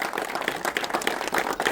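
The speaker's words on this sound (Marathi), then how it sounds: "त्या माणसासाठी जोरदार टाळ्या वाजवा" Audience clapping at a film screening after the showing of the Marathi film Phula, a dense, steady patter of many hands close by, continuous across the moment without a break.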